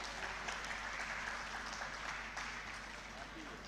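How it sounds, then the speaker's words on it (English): A conference audience in a Lahore hotel hall applauds continuously, a faint, even patter of many hands heard at a distance over a low hum, with a voice speaking over it. "please put your hands together for all the members who make this event successful"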